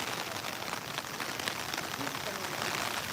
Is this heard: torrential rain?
yes